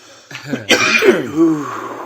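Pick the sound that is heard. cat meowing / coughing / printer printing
coughing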